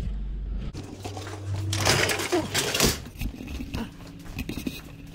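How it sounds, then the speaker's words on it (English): A refrigerator running on a Renogy 3000-watt pure sine wave inverter gives off a steady low compressor hum, partly masked by nearby rustling, clicks and clatter. "You can hear the fridge cycling."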